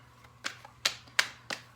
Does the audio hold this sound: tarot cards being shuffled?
yes